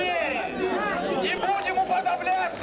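An angry crowd of separatists in Donetsk shouting and jeering at a seized pro-Ukrainian captive: many raised, overlapping voices in a dense, agitated clamour, close and loud throughout.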